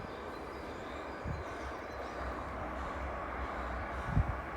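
A train passes in the distance beside a riverside path along the Thames in Oxford, a faint steady rumble under soft outdoor ambience with a couple of brief low thumps, no speech.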